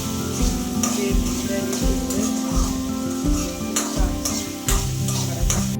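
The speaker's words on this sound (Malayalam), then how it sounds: "അതിനുശേഷം കടുക് പൊട്ടിച്ച് ഒരു ജീരകം" Mustard and cumin seeds sputter in hot oil for tomato chutney, a continuous close sizzle broken by repeated stirring scrapes and thumps in an uneven rhythm, with no voices.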